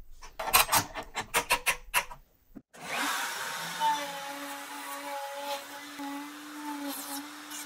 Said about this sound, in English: we cut our tenon to be 1/4 inch offset from center as well